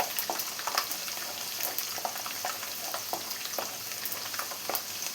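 Garlic frying in hot oil after mustard seeds popped, for a mango pickle, a close steady sizzle dotted with small crackles and pops, moderately loud, with no talking.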